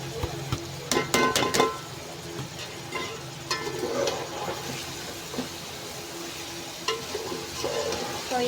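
Chopped cabbage and meat (gobhi gosht) sizzle steadily in a pot while a spoon stirs, with sharp clatters of metal against metal.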